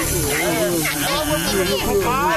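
A cartoon snake hisses inside a cave, a steady breathy hiss running throughout under excited animated voices speaking.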